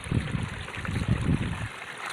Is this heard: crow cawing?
no